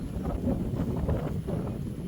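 Wind gusts across a rice paddy in the open countryside, a steady rumbling buffet on the microphone with soft swells, faint and alone.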